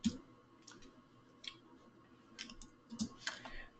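Fingers type a short phrase on a computer keyboard, a quiet scatter of light clicks in small bursts with pauses between, close and alone.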